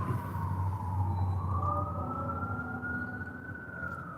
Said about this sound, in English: Did you hear the sirens?